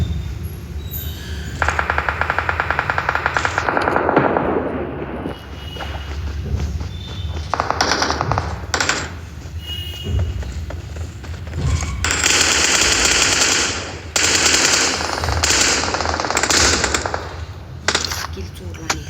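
Rapid bursts of gunfire from a shooting video game, with repeated automatic volleys and single shots in loud clusters, while players talk excitedly over the action.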